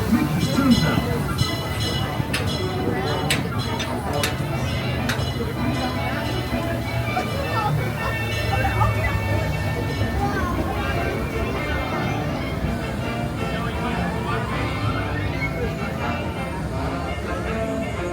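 A Disneyland Railroad train pulling into Toontown Depot, a steady rumble and clatter of the cars with squeaks and metallic clanks, under crowd babble and an announcer's voice.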